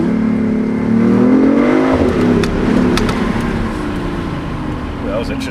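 A BMW i8 engine revs and drones loudly close by while driving through a tunnel, the pitch rising then dropping, with a boomy, enclosed echo and faint ticking noises.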